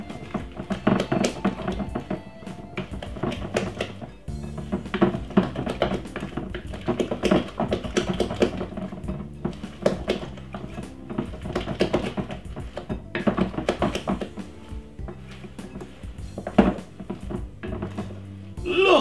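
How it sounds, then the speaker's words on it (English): Banana fritter batter being stirred in a bowl for a Jamaican recipe, giving a steady run of quick taps and scrapes against the bowl. "Give it a nice lovely stir."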